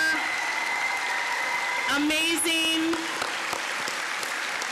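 Applause for student athletes at a school athletic awards assembly in Hawaii, broad clapping running throughout while a voice speaks briefly over it.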